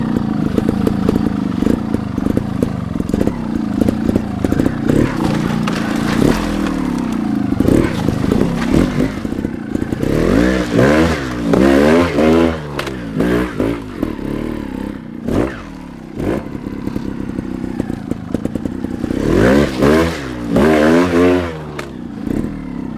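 A 2021 GAS GAS 300 TXT Racing trials motorcycle rides over steep terrain, its two-stroke engine blipping and revving in repeated bursts with clattering and scraping of the chassis over rocks, loud and close throughout.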